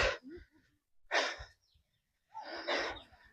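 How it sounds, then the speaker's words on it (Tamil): Heavy, labored breaths from someone hiking up a hill, three loud close gasping exhales separated by short pauses. "ரொம்ப மூச்சு வாங்குது."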